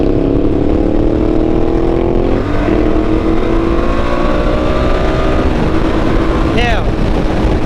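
Ducati Multistrada 1200 Enduro motorcycle engine roaring steadily while riding, with pitch sweeps as it downshifts and revs, loud and close with constant wind rush; a voice talks over it.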